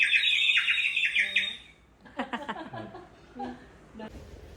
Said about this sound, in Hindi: चिड़िया आ गई